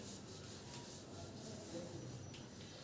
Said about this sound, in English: I want to rub this board, so I can draw freely